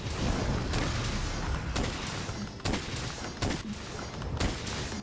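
Heavy bowgun fire from Monster Hunter World aimed at Alatreon's tail: a dense run of loud, repeated gunshot bursts with sharp booming peaks at irregular intervals over a continuous roar of battle noise.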